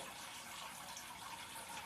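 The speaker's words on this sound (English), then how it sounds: "Just thought I'd show you these bubbles." Steady broadband bubbling and gushing of water in an aquarium, continuous and close, with no voices.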